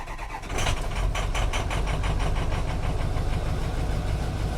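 A 6.0-liter diesel engine, idle for several weeks, cranks briefly after its glow plugs warm and then catches, settling into a loud, close, steady rumbling idle.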